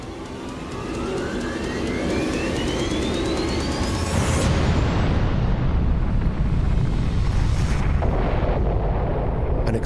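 An atomic bomb explosion over Hiroshima, a rising whine giving way to a loud sustained roaring rumble that fills the whole stretch without letup.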